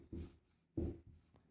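A pen or chalk writes an answer by hand in short scratchy strokes, with two or three distinct bursts separated by pauses, close and fairly quiet.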